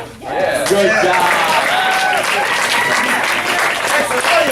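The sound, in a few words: round of applause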